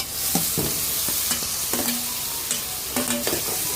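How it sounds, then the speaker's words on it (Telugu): Tomatoes being stirred into spices fried in oil in a pan: a loud continuous sizzle broken by several sharp scrapes and clinks of the spoon against the pan, close and with no talking. "టమాటాలు వేసుకొని మొత్తం కలిపి వేసుకున్నాం"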